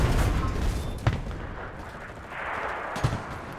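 Anti-tank gun in the World War II shooter Enlisted, defending in North Africa, firing two sharp heavy shots about two seconds apart over a continuous rumble of distant battle.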